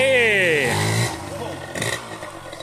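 The engine of a cheap $500 adventure motorcycle revs up with a rising, harmonic whine. It then drops to a rougher idle with some clattering. A voice can be heard alongside.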